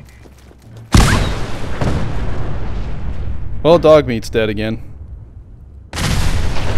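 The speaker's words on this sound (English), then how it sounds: "How big are these explosions?" Huge booming explosions in Fallout 4, one roaring blast erupting early and rumbling for seconds, and another erupting near the end, with someone talking in between.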